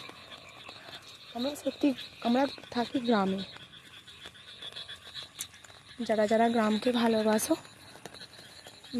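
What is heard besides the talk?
frogs croaking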